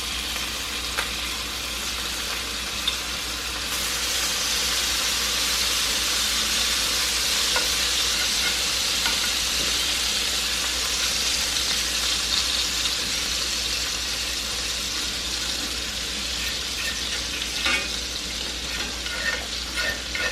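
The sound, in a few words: snapper frying in a pan with butter and garlic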